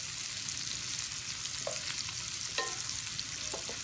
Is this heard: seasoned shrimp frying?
yes